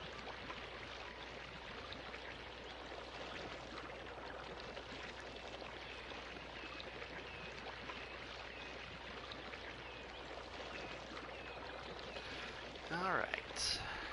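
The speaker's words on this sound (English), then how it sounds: "Just listen to the babbling brook. Okay, that's actually a really big river" A large river in the Cities: Skylines city-building game flows with a soft, steady rushing and trickling wash, faint and continuous throughout, with a brief louder splash near the end.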